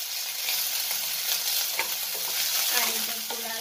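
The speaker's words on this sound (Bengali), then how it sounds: "পেঁয়াজটা ভাজা হয়ে গেছে" Onion and green chilies sizzling steadily in hot oil with mustard seeds in a pan, a loud continuous hiss with faint scraping from stirring.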